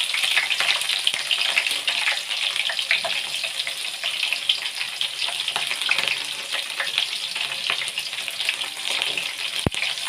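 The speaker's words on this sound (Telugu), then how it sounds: "ఇప్పుడు ముందుగా కట్ చేసి పెట్టుకున్న ఎర్రగడ్డ వేస్తున్నాను" Chopped onions go into hot oil already crackling with mustard seeds for a Nellore-style fish curry, giving a dense, continuous bright sizzle that stays close and even throughout, with one sharp knock near the end and no voices.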